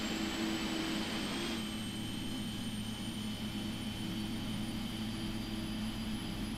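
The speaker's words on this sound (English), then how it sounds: "So on that, we can start number one engine." An airliner's number one jet engine spools up in a flight simulator game, a steady whine with tonal hum that holds at an even level throughout with no talk.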